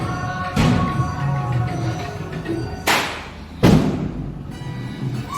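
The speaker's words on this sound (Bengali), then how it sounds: "কি বোম ফাটছে দেখছো" Firecrackers burst on Kali Puja night at a home celebration, three sharp loud bangs spaced a few seconds apart, the last two close together, over a steady murmur of background noise.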